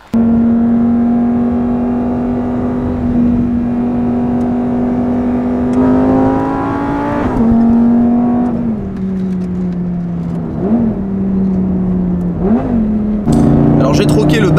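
A Lamborghini Gallardo Superleggera engine revs repeatedly, its pitch climbing and dropping in loud bursts, with a steady throaty idle between revs, at the Castles Rally 2021.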